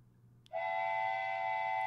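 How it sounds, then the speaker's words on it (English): A wooden toy train whistle blows one sustained, steady multi-tone chord that starts abruptly and holds loud and close, with nobody talking over it. "Wooden train whistle."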